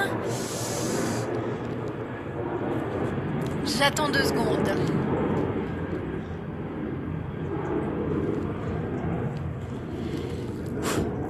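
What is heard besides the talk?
large airplane passing overhead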